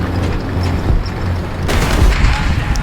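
An M55 self-propelled howitzer fires in a War Thunder match: loud, heavy gunfire bursts with a sharp crack and booming low rumble, over a steady engine drone.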